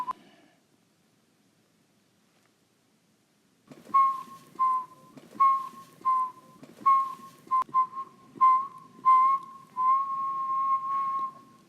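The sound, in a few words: person whistling, recorded sample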